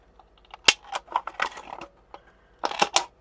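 Tim Holtz scissors cut through a thin metal sheet, giving sharp snapping clicks in irregular bursts, several crisp snips close up with brief pauses between them.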